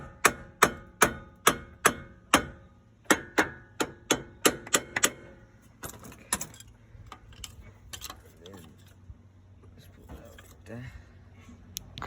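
Hammer striking Ford F-250 axle parts: a run of about fifteen sharp, ringing metallic blows in steady rhythm, then a few sparser, fainter knocks amid shop noise.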